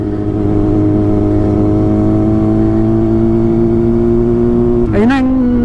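Kawasaki ZX6R 2022 motorcycle engine while riding: a loud, steady near drone with stable harmonics, then a brief sharp rev rising and falling near the end.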